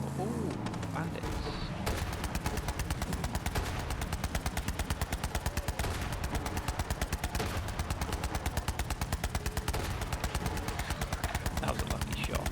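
Rapid automatic gunfire against bandits in the shooter game Borderlands 3 rattles in a steady, loud burst-after-burst rhythm for several seconds, preceded by a brief quieter moment, with a voice talking over it.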